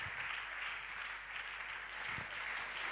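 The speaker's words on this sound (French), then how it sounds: "Clap for the Lord Jesus Christ." Church congregation clapping together for Jesus during a fasting and prayer service, a steady dense wash of many hands applauding without pause and no speech over it.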